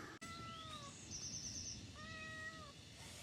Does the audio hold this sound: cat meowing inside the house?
yes